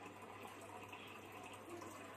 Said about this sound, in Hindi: मैं भर रही हूँ यहाँ पे फिल्टर में पानी